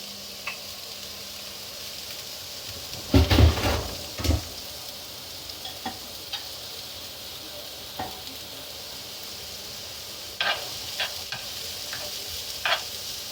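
Soft, steady sizzling of onions frying in oil, broken by a few scraping stirs and clinks of a utensil against the pan.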